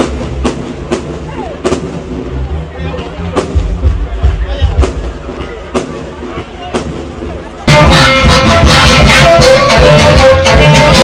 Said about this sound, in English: Fireworks lit up the skies, and the sounds of excitement echoed in different communities as people embraced a fresh start.